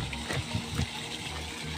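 Water escaping from a leaking drinking-water supply pipe, a soft gushing and splashing with a few gurgling pulses, faint and close, with no talking.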